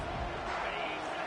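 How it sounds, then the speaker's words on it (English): A fired-up football stadium crowd roars steadily as a kickoff sails for a touchback, a dense, continuous wash of cheering with no single voice standing out. "It's early, but this crowd is fired up. Listen to this noise here."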